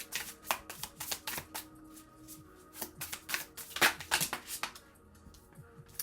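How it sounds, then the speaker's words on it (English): Tarot cards being shuffled close by, a run of quick crisp riffles and flutters with brief pauses, no voices. "I just realized you couldn't see me shuffle"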